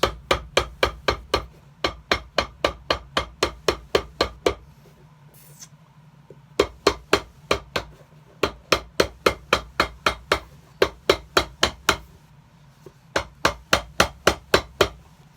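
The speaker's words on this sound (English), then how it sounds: "getting rid of the air bubbles on the welt and the sole connection, hammering them together" Repeated hammer blows press a leather sole onto the welt of a size 18 shoe during a full sole repair, struck in quick rhythmic bursts of about ten to fifteen taps with short pauses between, close and sharp.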